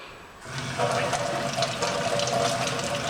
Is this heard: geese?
no